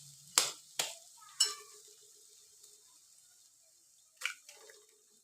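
Eggs cracked one after another into hot oil with fried onions: several sharp cracking taps and wet plops, then a soft, steady sizzle between them, all close and fairly quiet with no speech.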